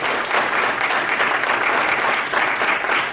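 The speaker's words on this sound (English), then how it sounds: "Let's have a round of applause." An audience applauds at the close of a live author conversation event at a bookstore, dense steady clapping from a full room throughout, close and even in loudness with no talking.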